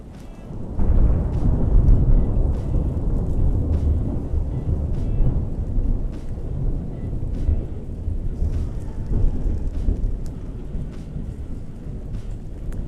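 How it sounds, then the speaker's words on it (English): Deep rolling thunder rumbles over steady rain, the low boom swelling early then lingering as the downpour continues with scattered drip ticks. "Ooh, big lightning. It's raining on this dreary Sunday."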